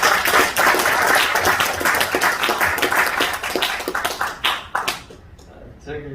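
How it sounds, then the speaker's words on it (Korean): A seated audience at a lecture gathering in Gunsan, South Korea, breaks into applause for a guest speaker. Dense, close clapping rolls on for several seconds and thins out toward the end. "박수 크게 박수 한번."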